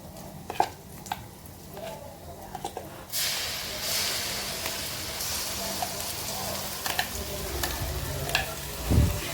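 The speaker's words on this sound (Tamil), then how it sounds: "இது எல்லாத்தையும் போட்டுட்டு நல்லா வதக்கி விட்டுறலாம்." Garlic and spices sautéing in oil for Andhra-style gongura (sorrel leaf) pickle, a soft sizzle with scraping stirs and a few sharp utensil knocks, swelling louder midway and ending with a clatter.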